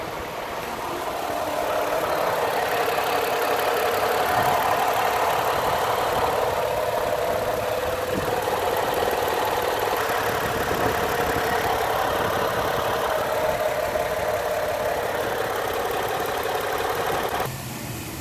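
The 3.0-liter engine of a 2010 Escape, before an engine flush, idles steadily and evenly for the whole stretch, a continuous low rumble with no speech.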